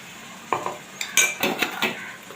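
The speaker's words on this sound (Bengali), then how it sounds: "ভালো মতো নাড়বো মশলাটাকে" Spiced meat being stirred in a pot, a run of sharp spoon scrapes and clinks against the metal, several quick strokes close up over a quiet background.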